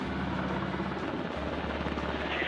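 Helicopter rotor and engine from a rescue helicopter manoeuvring over deep mountain gorges, a steady loud continuous drone with rhythmic blade chop holding throughout.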